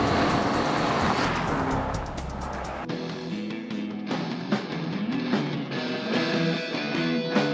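A second-generation Audi A3 drives along, with a rumbling road and engine noise for about three seconds before music takes over and masks it.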